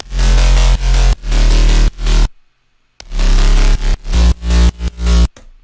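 Stacked synth bass patches led by a gritty driving bass in an electronic dance track, playing loud pulsing phrases with a short silent gap midway and choppy stabs toward the end, no voices.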